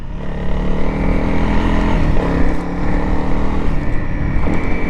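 Motorcycle engine running loud and close, with a steady rumbling idle and short rises in pitch as the throttle is blipped.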